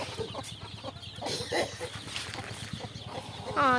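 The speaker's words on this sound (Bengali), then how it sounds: "এই যে আমাদের মুরগিগুলো" Chickens and chicks in a farmyard coop give repeated short clucks and soft peeping calls, close by, over a low background murmur, with a brief louder squawk near the end.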